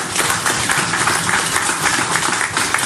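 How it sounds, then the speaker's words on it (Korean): A church congregation breaks into dense, even applause, a continuous loud wash of many hands clapping with no pauses. "우리 박수 한번 하시죠."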